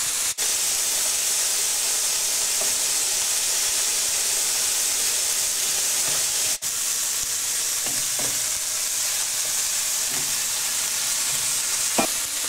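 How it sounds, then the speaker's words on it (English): Lamb sizzles steadily in hot oil as it is stir-fried, a loud continuous frying hiss with occasional stirring knocks and scrapes of the pan, no voices. "want to hear that sizzle to make sure the lamb is going to brown"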